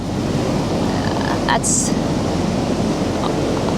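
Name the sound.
ocean waves breaking on the shore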